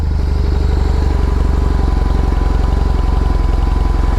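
A BMW R18 motorcycle with its 1800cc boxer engine idles steadily up close, giving a loud, even low-pitched rumble with a rapid regular pulse throughout and no talking.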